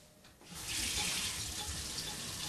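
Warm water gushes from a household tap in a rural home, starting abruptly after a short quiet moment and then running steadily and loudly with a bright hissing splash.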